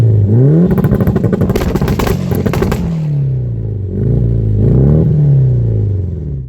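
Mitsubishi Evo 6, a 90s Japanese import fitted with a big cannon exhaust, revving hard: a loud rising engine note with rattly clatter, falling back, then two more swelling revs close by.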